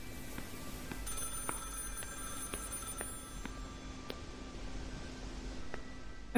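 A telephone ringing in the horror game Project Looking Glass, faint repeating bell rings spaced about a second apart over quiet background hum, with no talking.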